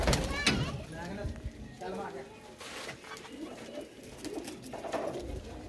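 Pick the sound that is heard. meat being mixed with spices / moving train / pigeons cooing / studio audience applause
pigeons cooing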